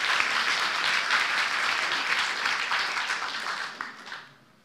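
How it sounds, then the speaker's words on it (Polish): Loud, dense applause from an audience in a hall at a political meeting with Jarosław Kaczyński at the Ronin club, sustained steadily before thinning and fading out over the final second. "I za to się panu należą ogromne brawa."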